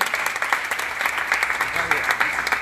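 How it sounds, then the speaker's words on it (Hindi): Audience applause after two young people, Salomi and Nathaniel, are asked to stand during a church gathering, steady clapping filling the room throughout with a voice faintly mixed in. "आप ताली बजा सकते हैं।"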